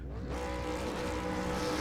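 V8 Supercar engines in the iRacing video game rev together at a race start at Interlagos, a dense, steady roar building after a quieter opening and holding loud throughout.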